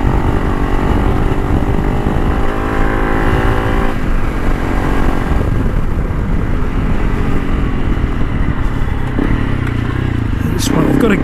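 A Honda CRF300 Rally motorcycle ridden off-road, its single-cylinder engine roaring loud and close with shifting revs. Wind buffets across it, and a rider's voice can be heard talking over the engine.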